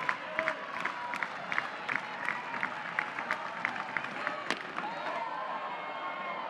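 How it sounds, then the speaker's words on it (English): At a college softball game between Oklahoma and Iowa State, a stadium crowd claps and cheers steadily at a moderate distance, with scattered sharper claps and shouts and an announcer talking faintly underneath. "Crowd into it early."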